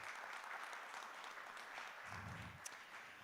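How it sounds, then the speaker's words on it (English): Quiet, steady round of applause from a forum audience honoring Dr. Roberta Wilburn, a dense, even patter of many hands that sounds somewhat distant and continues without voices for the whole stretch. "I'd like to give her a round of applause"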